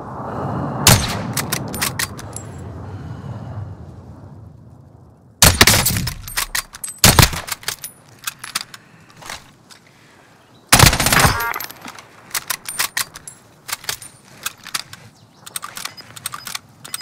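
A Call of Duty Modern Warfare airstrike lands in loud bursts of explosions and rapid gunfire, with crackling debris and quieter stretches between the blasts; no one speaks.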